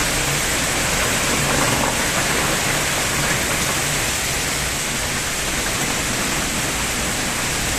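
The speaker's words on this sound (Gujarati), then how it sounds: "કલાલામાં જોરદાર વરસાદ." Heavy rain pours steadily in a village during a dark downpour, with vehicles coming and going, a loud continuous hiss holding even throughout with no voices.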